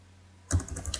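Typing on a computer keyboard: after near silence, a quick run of close key clicks starts and continues steadily and softly to the end.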